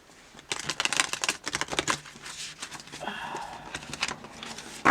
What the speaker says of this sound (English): They're finally starting to be a little easier to shuffle.